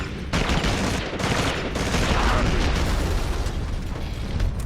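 A video game firefight with a grenade blast and dense gunfire, loud continuous booming and crackling bursts filling the whole stretch after a brief opening lull.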